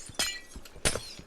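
Glass blocks shatter in Minecraft, two sharp crisp breaks close together, each with a quick tinkling tail and no talk over them.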